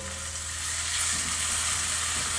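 Chicken bone broth poured into a hot pan and sizzling, a steady loud hiss of frying liquid that holds evenly throughout, close up with no talking.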